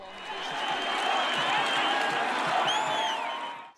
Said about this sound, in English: The boisterous home crowd loved what it was seeing.